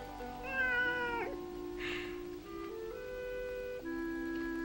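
A cat meows several times in a row, the calls close and clear with long drawn-out pitch slides and no talking over them.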